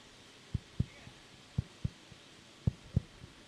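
Heartbeat sound effect played during a TV umpire review at a cricket match: paired low thumps repeating in a steady rhythm, fairly faint over a quiet hum.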